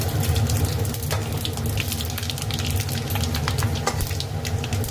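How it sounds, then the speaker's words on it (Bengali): Bay leaf, dried chilli and five-spice tempering in hot oil in a home kitchen, a steady loud sizzle and crackle running throughout with scattered sharp pops, no talking. "এখন আমি ফোড়ন দেবো, তেজপাতা, শুকনো লঙ্কা আর 5 ফোড়ন।"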